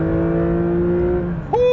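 A 2024 Porsche 911 S/T with a naturally aspirated engine, droning steadily at constant pitch, then briefly dips before loudly surging into a sharp higher-pitched rev close by.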